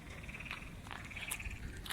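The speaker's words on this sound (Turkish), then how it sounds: "Kurbağa sesleri duyuyorum." Faint frog croaks carry from a distance across a stream, a few soft repeated calls over a quiet outdoor background.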